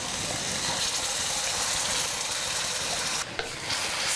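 Garlic, shallot, chili and yellow spice paste hit hot oil in a pan for Balinese fish soup, a loud dense continuous sizzle close up, briefly interrupted near the end.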